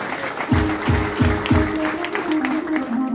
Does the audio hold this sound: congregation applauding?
yes